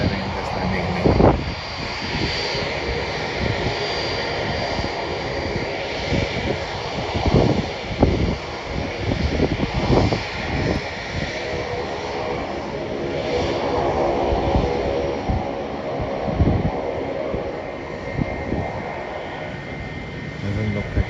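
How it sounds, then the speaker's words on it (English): A Boeing 777 landing at Melbourne Airport, its jet engines a steady broad roar heard from a distance, buffeted by wind noise on the microphone with occasional thumps over the run. "See the Boeing 777 just landing in Melbourne."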